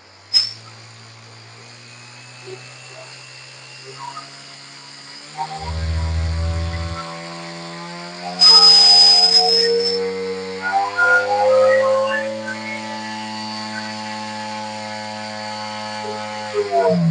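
A drone motor driven through a servo tester spins a propeller during a thrust test, a steady whirring tone that climbs in pitch as the speed rises, with a brief louder surge partway through and no talking.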